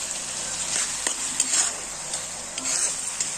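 Soaked lentils sizzle and fry in a pan over a gas flame while a spoon stirs them, a steady hiss with scattered light scrapes and clinks, close and without talk.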